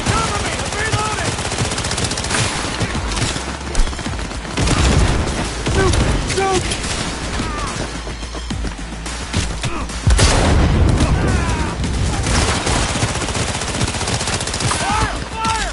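Heavy gunfire in Cyberpunk 2077, sustained automatic bursts with booming impacts and louder surges, combat continuing throughout while voices shout over the shooting.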